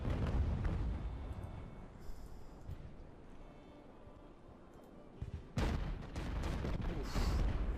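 Naval cannon fire loaded with grape shot in Ultimate Admiral: Age of Sail, heavy booming salvos at the start and again near the end with rumbling between, loud and rolling.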